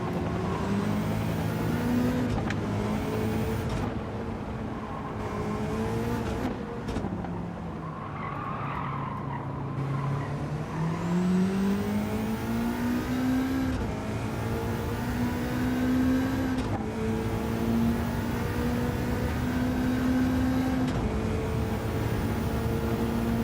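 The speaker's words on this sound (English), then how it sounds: "Speedy B in the Pagani Zonda" Race cars in Gran Turismo 7, among them a Pagani Zonda, roar past with engines rising and falling through the gears while tires skid and squeal, a continuous stretch of close racing.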